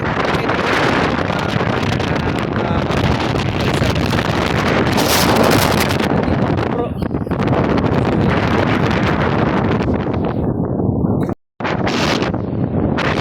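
Strong, steady coastal wind at a campsite in Zambales, Philippines roars and buffets the microphone throughout, with a brief dropout near the end and no voices.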